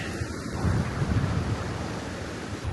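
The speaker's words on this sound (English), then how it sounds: "You know, with all this wind, I'm thinking about putting on my microphone real quick." Steady gusty wind blowing outdoors at Seven Falls, a broad continuous roar with low rumbling buffeting against the microphone, loud and constant with no talk.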